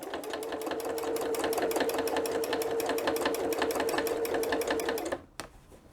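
A sewing machine runs stitch-in-the-ditch lines on a quilt, rattling in fast, even needle pulses up close for about five seconds, then stopping abruptly with one small clunk afterward.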